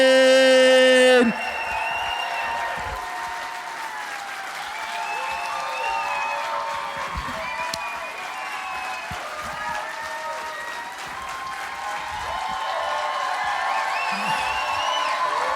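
A comedy club audience applauds and cheers as comedian Adrian Washington takes the stage, dense sustained clapping with scattered whoops that carries on loudly after a brief opening voice.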